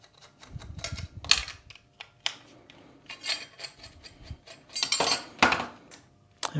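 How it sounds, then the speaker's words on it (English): Cover and bracket being taken off an old scanner during scrapping: irregular metallic clinks, taps and rattles of screws and parts, close and fairly quiet, with short gaps between bursts. "Get this cover off, get this bracket off."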